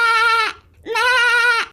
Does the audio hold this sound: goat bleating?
yes